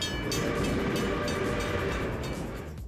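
A SteamRanger heritage train in South Australia rumbles steadily as it slows entering the Finnis station yard, with a broad, continuous roar and faint rail noise, heard close and without any voices.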